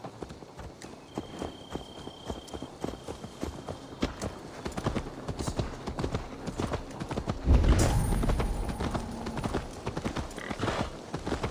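Horse hooves clip-clop steadily against a busy Assassin's Creed Valhalla game soundscape, with a louder burst of activity partway through.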